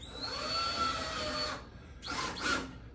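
Power screwdriver driving screws to mount a curved shower rod, a close whining motor run of about a second and a half, then a brief pause and two shorter bursts.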